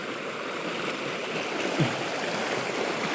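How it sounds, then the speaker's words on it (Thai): A muddy forest stream, swollen after overnight rain, being crossed on foot; its water rushes in a steady, close, even wash with no voices. "ข้ามเฮาต้องข้ามห้วยนี่เนาะข้ามห้วยนี่"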